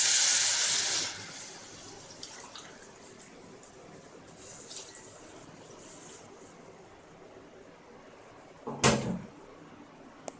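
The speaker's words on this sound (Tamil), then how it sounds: "நான் வந்து இதில் ரெண்டு கப் அளவுக்கு தண்ணி ஊற்ற போகிறேன்" Water poured into a pan for rava upma (semolina), a loud rushing splash in the first second that quickly fades to a quiet kitchen background, with a short clatter near the end.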